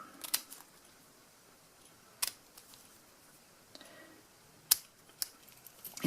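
A few sharp, isolated snips of scissors cutting wired ribbon in a quiet room, spaced irregularly with silence between them.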